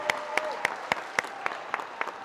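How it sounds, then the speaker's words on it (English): Audience at a high school basketball game clapping in a gym, a steady round of applause with sharp, evenly spaced claps standing out close by. "Let's give them a big round of applause."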